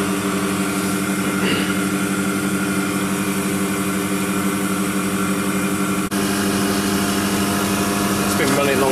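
A refrigeration compressor running steadily as its oil warms up, a loud, constant mechanical hum and drone with a brief dropout partway through.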